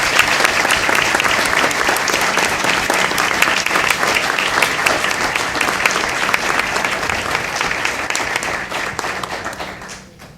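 Sustained audience applause at a school board meeting honoring the 2022 Teachers of the Year, loud and dense, tapering off at the very end.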